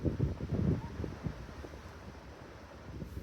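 A warm evening breeze blows outdoors at Big Bend, a low rumbling wind buffet that is strongest at the start and then settles into a steady hiss, with no one talking.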